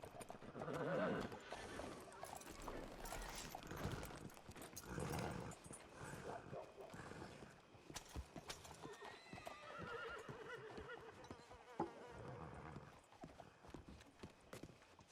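Horses in the WildRP video game world neigh and whinny repeatedly while hooves clip-clop through a sustained stretch, mixed with ongoing game ambience and occasional voice.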